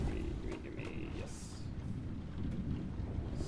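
A video game thunderstorm rumbles as a low, steady roar of wind and rain, with faint distant thunder and scattered small clicks, quiet and continuous.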